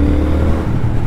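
Traffic noise from riding a 2019 Triumph Speed Twin motorcycle: a loud, close, low engine hum with passing-vehicle whir that stays steady for about a second.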